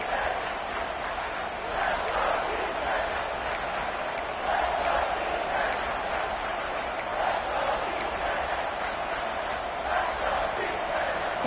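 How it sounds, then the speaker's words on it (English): Crowd noise inside a college football stadium on third down, a sustained roar with swelling cheers and occasional sharp whistles across the whole stretch. "Third down and the crowd really getting into it."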